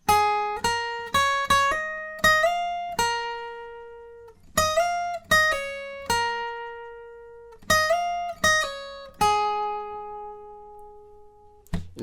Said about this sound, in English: So the second line in total will sound like this.